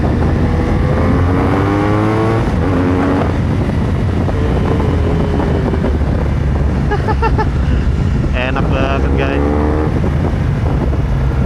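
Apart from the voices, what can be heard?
BMW motorcycle 1200 boxer engine running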